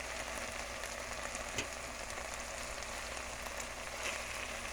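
Steady crackling sizzle of broccoli and vegetables frying in a pan before rice goes in, continuous and fairly quiet, with a faint stir or clink partway through.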